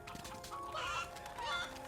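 Chickens cluck in the medieval adventure game MediEvil, their calls blending with other in-game sounds and a faint musical tone over two seconds.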